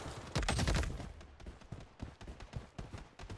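Rapid bursts of gunfire in the Blood Strike shooter game, loud volleys at first then scattered sharp shots, with no speech.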